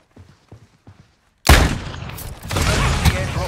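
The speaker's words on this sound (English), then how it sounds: "it exploded instantly" A proximity mine in a video game bursts into a loud, sudden blast right after a few soft clicks of gunfire, then a second wave of roaring explosion noise follows and keeps rumbling to the end.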